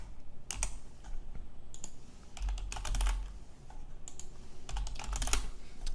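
Quick bursts of typing on a computer keyboard, clustered clicks separated by short pauses, close and fairly quiet with no talk.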